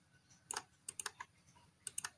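Keyboard keys clicking in short bursts while Ctrl C and Ctrl V shortcuts are pressed to copy and paste, a few quiet, sharp taps spaced across the moment with no talking.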